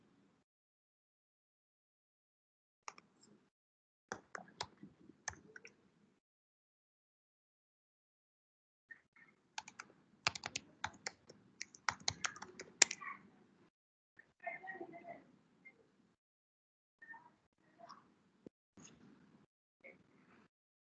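Keys clack on a computer keyboard in scattered bursts of quick taps separated by quiet pauses, close and fairly soft, during setup of an AWS account.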